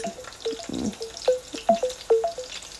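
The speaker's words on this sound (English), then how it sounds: "Several browned sausages in a dark pan with a small amount of liquid." Browned sausages cooking in a dark pan with a little liquid, giving a steady close sizzle with several sharp pops and spits spaced through the clip.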